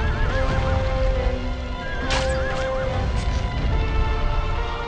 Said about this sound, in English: Oops, didn't mean to call the horse.